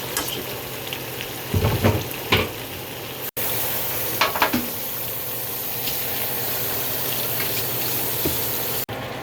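Vegetables tipped into a brown stew for Jamaican-style jerk and curry chicken sizzle loudly up close, with a few clattering stirs and scrapes early on and a steady frying hiss running throughout.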